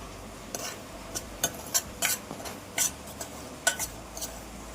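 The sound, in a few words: dry-roasting semolina (rava) in a pan without oil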